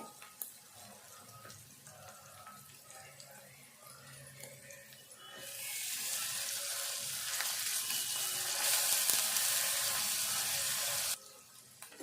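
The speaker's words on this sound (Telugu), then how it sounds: "ఇదంతా దగ్గరికి ఫ్రై చేసుకోవాలి" Shredded cabbage fries in a pan for a Telangana snack: faint kitchen clatter and speech first, then a loud steady sizzle that stops abruptly near the end.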